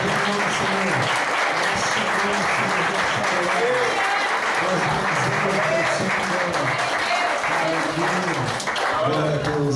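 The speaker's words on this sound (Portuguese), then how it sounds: "Você pode aplaudir ao Senhor?" A church congregation claps along loudly and continuously, a dense wall of applause with voices calling out and a preacher speaking over it throughout.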